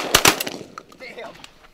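Two quick close shotgun blasts ring out while hunting pigeons in a shooting contest, followed by fainter scattered reports in the distance.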